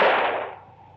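A single loud revolver shot cracks at the very start, then its echo rolls away and fades over about a second in an outdoor Western setting.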